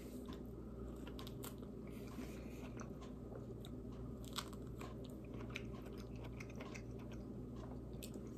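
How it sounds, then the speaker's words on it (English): Someone snacks on an orange and colored carrots, biting and chewing close to the microphone with repeated crisp crunches in a steady rhythm and no talking. "Now I'm having a little snack with some orange and some colored carrots"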